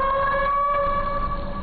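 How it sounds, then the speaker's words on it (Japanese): An emergency siren wails near the Shonai River in Japan, a loud, sustained tonal blare with steady harmonics over low traffic rumble, heard clearly and continuously with no talk. "めっちゃサイレン鳴ってます。"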